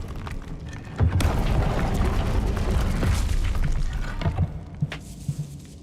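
A Confringo explosive spell blasts in Hogwarts Legacy, a loud booming burst that hits early and rumbles on with scattered thuds and crackles, no talking over it.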